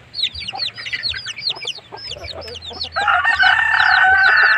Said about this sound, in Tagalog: So ito po ang sinasabi kong maglanon na mga sisiyo ko na napakabilis lumaki.